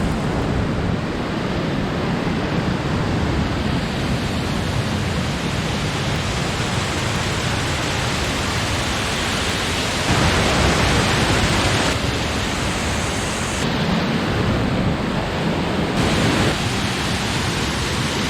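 A steady, broad roar of rushing water at Conewago Falls on the Susquehanna River, loud and continuous like rapids, with some wind buffeting the microphone.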